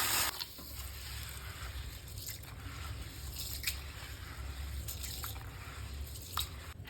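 Split moong dal and toor dal are swished and rubbed in water, giving soft continuous splashing with wet squishes and occasional drips close by.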